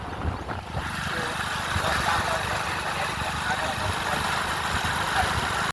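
A motorbike engine idling and running steadily at moderate distance, a continuous low rumble under faint background noise, with no clear talk over it.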